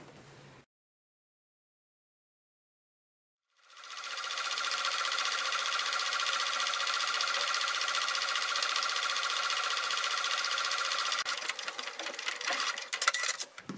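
A sewing machine stitching a handle strap for a patchwork and recycled denim pouch, a brief noise then silence before a loud, steady, close mechanical whirring hum that runs to the end.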